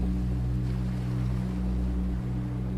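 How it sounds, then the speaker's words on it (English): A steady low rumble and wash of sound, like distant waves against the shore, continues without a break, with a constant droning hum underneath and no voices. "The last thing you're aware of is the distant sound of waves against the shore."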